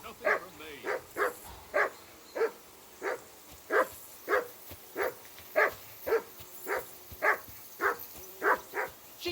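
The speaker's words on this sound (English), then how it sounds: "Jesus, Henry, that barking's driving me nuts." Henry's dog in Kingdom Come Deliverance 2 barks in a steady, regular series of about fifteen sharp woofs, evenly spaced and fairly close, with nothing else sounding in between.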